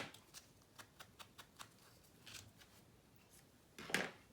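Scissors snip a quick, faint run of small cuts to trim overhanging paper on a mini album, followed by a pause, a soft rustle and a louder paper scrape at the end.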